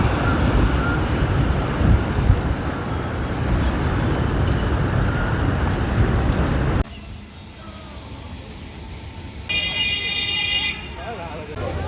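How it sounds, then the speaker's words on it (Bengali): Strong wind and roaring sea at Digha beach give a loud, steady broadband rush for about seven seconds, then drop to a quieter, thinner background with brief tonal noises. "পাশে সমুদ্রের গর্জন তোমাদেরকে এবার শোনাবো"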